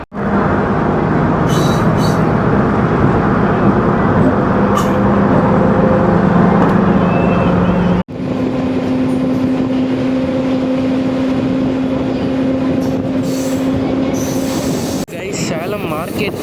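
A Vriddhachalam–Salem DEMU express pulls out of Salem Town station with a loud, continuous rumble of wheels on rail, a sustained metallic squeal riding over it and a sudden shift in tone partway through as the carriages roll on.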